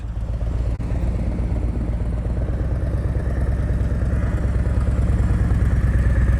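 A motorcycle engine runs at low revs, under 1,000 RPM, during slow-speed riding practice, a close, steady, throbbing idle-like pulse that continues throughout with a slight rise in level.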